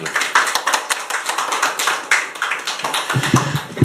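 Close, brisk hand clapping greets a party leader stepping up to give congratulatory remarks at a political event, a few distinct claps standing out from the round, which thins toward the end.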